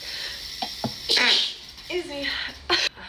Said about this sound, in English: just sneeze right into the orange.